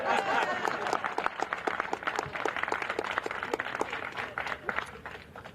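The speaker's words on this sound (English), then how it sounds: "You can clap." Audience clapping at a Connecticut Port Authority press event on the State Pier agreement in New London, a steady crowd applause with dense overlapping claps that hold through to the end.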